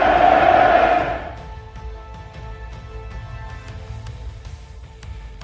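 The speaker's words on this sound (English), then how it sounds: "finally he's given the crowd something to cheer about" A football stadium crowd roars loudly after a Barcelona goal, the cheer peaking for about a second before easing into a sustained murmur of noise with scattered shouts.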